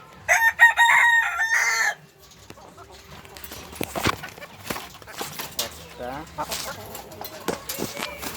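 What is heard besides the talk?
rooster crowing and hens clucking in a coop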